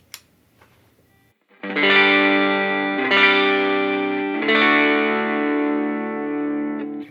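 Electric guitar driven through an overdrive pedal switched on into an amp, three strummed chords struck in turn and left ringing thick and saturated, loud and close, with no voices.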